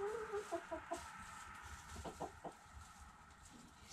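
A chicken clucks softly and repeatedly while pecking at something sweet, giving short rhythmic clucks and faint taps at close range with no speech.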